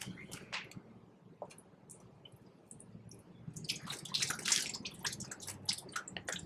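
Water drains from a cast iron drop-in sink with faint gurgles, drips and splashes that grow busier and slightly louder toward the end.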